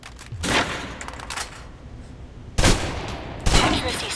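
Blind gunfire from behind cover in the video game Alpha Protocol: a loud burst of shots around half a second, a quieter stretch, then two more sharp volleys near the end, with no talk.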